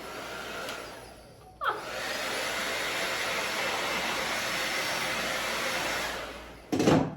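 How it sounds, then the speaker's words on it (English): A handheld blow dryer runs steadily, drying chalk paint on a pumpkin topiary; a loud, even whoosh starts after a short pause and holds for several seconds before cutting off, with a brief restart at the end. "we made short work out of that with our blow dryer"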